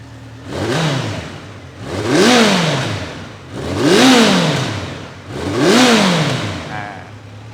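A 2017 Honda CB1100RS motorcycle engine revs up and falls back four times in a slow, even rhythm, loud and close.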